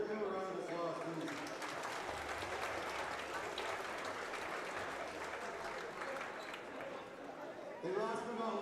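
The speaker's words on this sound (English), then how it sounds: "Give him a round of applause, please." Sustained applause from an audience at a men's championship tournament awards ceremony, steady and full throughout with cheering mixed in, a voice briefly audible at the very end.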